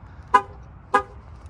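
A 2024 Mercedes-Benz EQB300 4matic gives two short horn chirps as it locks, about half a second apart, crisp and close with a quiet background.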